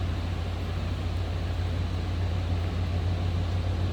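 A 1994 Chevrolet Silverado K1500 pickup with a 5.7 liter V8 idles steadily, heard from behind the truck, a constant low rumble with a strong deep hum and no talking.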